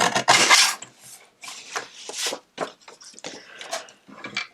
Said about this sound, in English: So I will trim this card down a little bit.